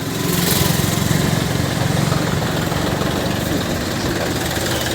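A model 265 tractor engine runs at a Punjab tractor market, with a loud, steady, close idling rumble throughout and no talk.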